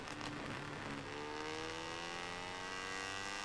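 A racing motorcycle in MotoGP 17 revving and accelerating, the engine note climbing steadily in pitch as it pulls away, loud and close with no talk.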